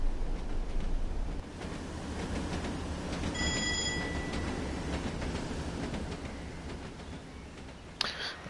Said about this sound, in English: And you can hear AWS properly from outside the cab again.